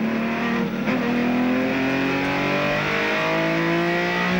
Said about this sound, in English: Jimmy Richards on the track in the BMW